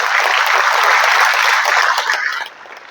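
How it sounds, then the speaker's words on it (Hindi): A crowd at a speech about Babasaheb Ambedkar and the making of the constitution breaks into loud, sustained clapping that holds steady for a couple of seconds and then stops abruptly. "इस सब बात का समावेश अगर बाबा साहब अम्बेडकर ने किया है तो इसके लिए उनका जोरदार तालियां बजाकर"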